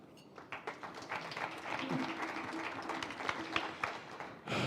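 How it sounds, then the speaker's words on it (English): An audience at a DTM post-race press conference applauds the podium finishers, a moderate burst of clapping that swells and holds for several seconds at a fairly low level, with faint voices in the room. "I think our podium is worth a big round of applause."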